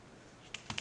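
An IP address is typed on a computer keyboard as a short run of crisp, close keystrokes clustered near the end, with no talking.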